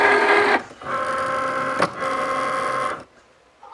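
Cricut Maker cutting machine loading its cutting mat, a close whirring motor that starts and stops in two bursts with a brief click between, ending in near silence.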